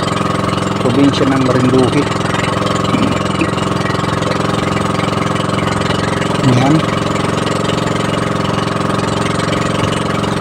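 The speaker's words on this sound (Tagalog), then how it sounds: "masyadong maingay yung tunog ng makina ng motor" A boat's motor engine runs loud and steady near a Marinduque island rock formation, a constant droning hum throughout, with someone briefly talking over it.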